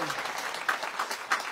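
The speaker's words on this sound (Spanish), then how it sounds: "Un fuerte aplauso para ustedes que lo lograron" Audience applause at a live public event in San Martín de Porres, a steady wash of clapping from a crowd, moderately loud, with a few louder bursts.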